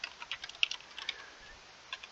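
Close keystrokes clatter on a computer keyboard in a quick irregular burst of clicks that thins out toward the end, with a faint steady hum behind and no talking.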